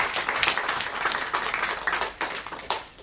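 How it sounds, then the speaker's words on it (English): An audience at a university debate gives the speakers a closing round of applause, a brief burst of crisp hand clapping from a moderate crowd, close and lively before tapering off. "can we have one more round of applause for our speakers tonight?"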